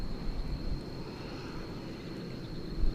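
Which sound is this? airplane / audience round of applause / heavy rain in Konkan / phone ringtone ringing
airplane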